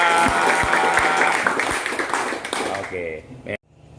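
An audience at a ceremonial gathering applauds its chairman with loud, dense clapping that fades out over a few seconds before cutting to near silence.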